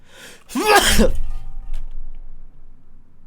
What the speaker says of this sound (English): that sneeze was something